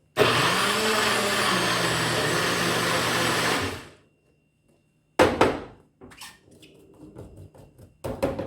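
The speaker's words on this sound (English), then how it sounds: "Make sure that your blender is closed properly if you're using one of this." A blender whirs loudly and steadily for several seconds while making jollof rice, then cuts off, followed by quiet clunks and handling noises.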